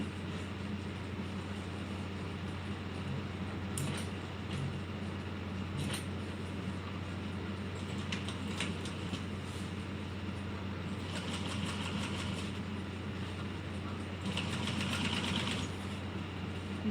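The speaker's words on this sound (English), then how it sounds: "I'm just going to top stitch this at 1/8 of an inch all the way down" A sewing machine top-stitches a bag seam at an eighth of an inch, a steady low motor hum running throughout with faint rhythmic needle clatter and a few brief sharper ticks.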